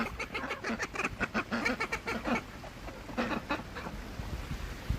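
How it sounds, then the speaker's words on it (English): Several ducks at a snow-covered city pond in Chicago's Old Town, giving clustered, fairly close quacks and chattering calls in bursts, with a steady outdoor background hum between them. "And there's 4 ducks here, and they're talking."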